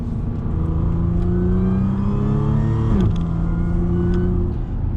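A modified Audi S4 on its first drive accelerates with a loud, close engine drone, its pitch climbing steadily, dropping sharply at a gear change, then climbing again, with no talking.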